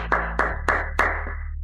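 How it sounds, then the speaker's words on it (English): Four separate sharp claps, evenly spaced and fairly close, over a low steady hum at a wedding, the sound thinning rather than building into full applause. "How about a round of applause for encouragement?"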